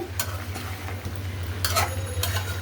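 Cauliflower being stirred into chicken in a home cooking pot, with soft scraping stirs and a faint sizzle over a steady low burner hum, a few clinks of a spoon against the pot, no voices.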